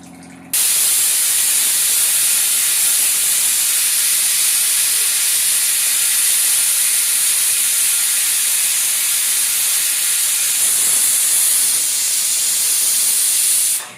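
A pressure cooker holding sambar lets out a loud, unbroken high hiss of steam that starts abruptly and runs steadily without pause until it cuts off at the end.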